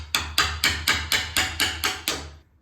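Eight evenly spaced hammer blows strike a chisel cutting about an eighth of an inch into the wooden edge of a door for a lockset, each sharp knock close and loud with a brief ringing decay.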